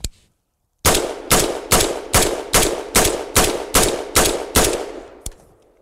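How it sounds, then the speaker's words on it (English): A semi-automatic rifle fired in a rapid, even string of about ten loud, close shots, one per trigger pull, after a single opening shot and a brief silence. "This rifle, when it's loaded, can only fire one shot for every pull of the trigger"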